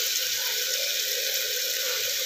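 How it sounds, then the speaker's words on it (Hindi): Water pours steadily into a pan of pea and potato curry, a continuous loud splashing hiss with no voices over it. "अब हम इसमें पानी डाल देंगे।"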